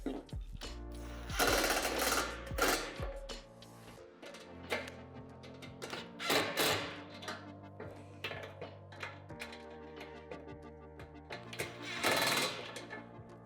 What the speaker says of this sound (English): To make tightening this hardware easier, I like to use a Phillips bit and a pair of vice grips.